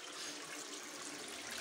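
Shower water running inside a home bathroom, a steady broadband hiss of spray that holds evenly from start to finish, close and moderately quiet, with a small splash or knock at the very end and no voices.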